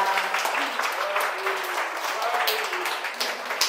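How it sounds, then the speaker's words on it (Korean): An audience at an artist talk concert in an AI art exhibition applauds after an improvised performance, with steady close clapping throughout and a voice speaking over it. "다시 한번 즉흥 퍼포먼스를 해주신 두 분께 따뜻한 박수 부탁드리겠습니다"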